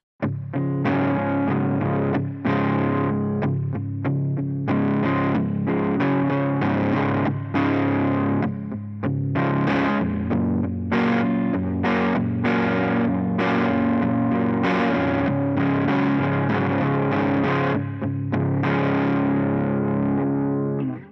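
Distorted electric guitar on the neck pickup with a warm, rounded tone, strummed chords and riffs played continuously at steady loudness with a shimmering effect, no talking.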